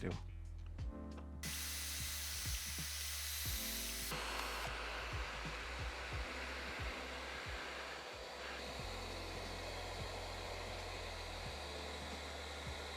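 A power drill whirs continuously at high speed, loud and close, boring 8 mm holes 12.5 mm deep for hinges, with a brief change in pitch near the start and faint tapping beneath.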